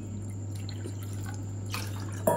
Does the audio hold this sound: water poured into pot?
yes